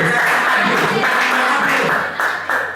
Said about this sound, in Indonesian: Nah, tepuk tangan dong ya.